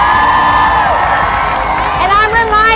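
Large crowd at the Women's March cheering and whooping loudly and continuously, with shouts and rising calls mixed into a dense roar.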